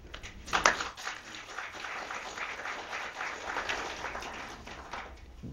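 An audience claps after a speech at a 2008 elections event. The applause is steady and moderately loud, swelling briefly near the start and then continuing evenly throughout.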